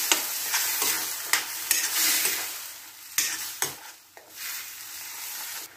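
Spinach being stirred into frying spices in a pan: a soft sizzle runs under scraping stirring strokes that come in irregular bursts, fairly close and moderately quiet, with no talk.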